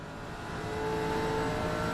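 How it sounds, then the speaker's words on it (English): Race car engine in a racing video game at Spa-Francorchamps, a steady mid-level engine drone with a slight swell in loudness over two seconds, no voices. "You can hear just how quiet it is when he starts to make it round the corner"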